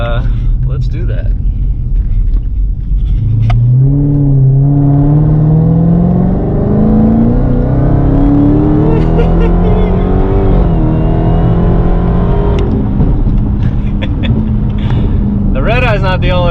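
A Dodge Charger Hellcat engine roars through hard acceleration with rising revs, then downshifts with sharp blips and crackles, loud and close from inside the car, with a person talking and exclaiming over it.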